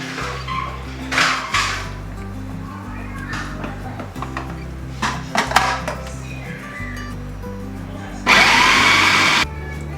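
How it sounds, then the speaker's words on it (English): A food processor blends tomatoes into sauce in a home kitchen, giving a short, loud whirring burst near the end after scattered clinks and handling noises over a low hum. "So I'm gonna run mine through my food processor and then put it on the stove"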